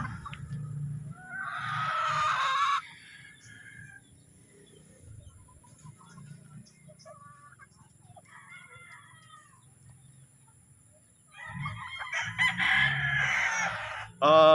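A sweater cross gamecock rooster crows in several loud bursts, with clucking and farmyard fowl sounds in the gaps, the final crow rising strongly near the end.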